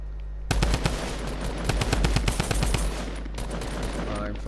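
Rapid automatic gunfire in a first-person shooter video game, sustained loud bursts of shots with a steady rhythm, close and dominant throughout with little else audible.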